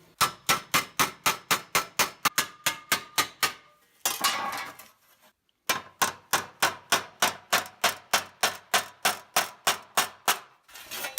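Hammering on rusty sheet-metal car body panels of a Nissan 240SX, steady rapid metallic strikes in even rhythm, close and loud, with a short pause midway before the blows resume.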